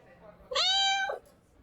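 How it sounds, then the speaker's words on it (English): A single clear cat meow, drawn out for about half a second, rises out of quiet background murmur at a bar. "Oh, it said meow again."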